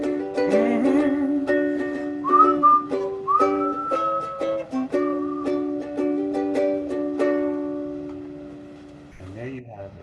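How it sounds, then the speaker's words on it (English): A person whistles a cheerful tune solo, clear and close, with sustained melodic notes and short phrases over roughly ten seconds before a brief break at the end. "Little whistle to take us out."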